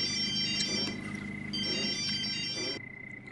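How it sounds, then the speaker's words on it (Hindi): A mobile phone ringtone rings in a domestic scene, playing a repeating melodic electronic pattern in steady bursts at moderate volume before it cuts off near the end, with no speech. "जरा फोन बज रहा है।"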